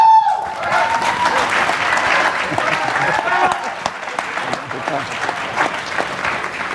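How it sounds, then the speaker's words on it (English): An audience at a leadership forum bursts into applause with some cheering, a dense, loud wash of many clapping hands that starts abruptly and stays strong, with voices mixed in under the clapping. "It's a carefully placed cheering section."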